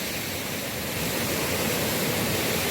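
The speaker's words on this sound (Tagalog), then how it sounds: "See the falls there?" Waterfall at Aleco Resort in Samar, alongside a river, giving a steady, dense rushing roar that holds even throughout with no voices.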